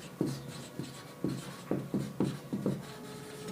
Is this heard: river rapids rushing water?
no